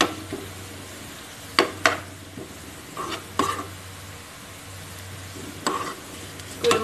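Prawn roast masala being stirred in a pan, a soft ongoing sizzle broken by several distinct scraping strokes of a spoon against the pan, close and with no voices.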